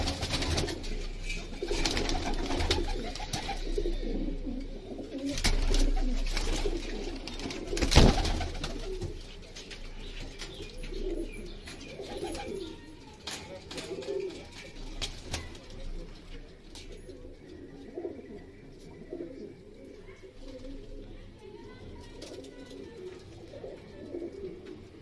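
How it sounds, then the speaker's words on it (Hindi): Kamangar pigeons coo in a breeding setup, a steady chorus of low, rolling coos that runs throughout, with a voice talking now and then. "ये देखिए काफ़ी अच्छे कबूतर हैं यहाँ पे"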